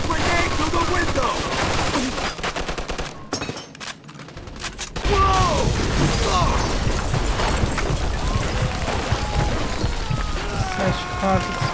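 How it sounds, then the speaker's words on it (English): Dense, sustained machine gun fire and explosions from the World War II battle of the Mafia 2 video game, loud and continuous apart from a brief lull, with shouted voices mixed into the combat. "Looks like we found the machine gun. Watch it!"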